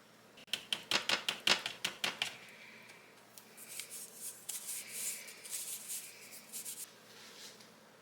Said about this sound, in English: You just want to sift that into your bowl.